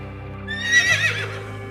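A cartoon horse in an animated story gives one loud, close whinny, its shrill wavering cry rising and falling over faint hoof clip-clops, with no talking.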